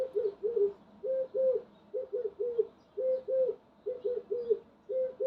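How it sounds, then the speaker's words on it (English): A dove coos in a steady repeating pattern of soft, low, hollow phrases, several in a row with brief pauses between, clear and alone against a quiet background. "A dove cooing."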